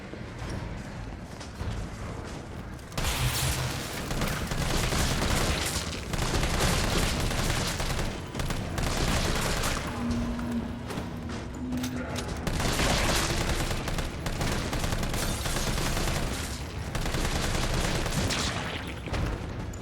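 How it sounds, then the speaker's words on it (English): Enemies blowing up in the Resident Evil 3 Remake video game, heard as sustained rapid bursts of gunfire and explosions that rattle on loudly for several seconds, pause, then return in dense volleys. "they just explode when they die in here"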